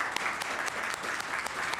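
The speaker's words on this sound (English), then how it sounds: "Round of applause for Joyce Murray" Dense applause at a cabinet shuffle swearing-in ceremony for new cabinet minister Joyce Murray, Treasury Board president, with crowded, overlapping claps at a steady level and no talk.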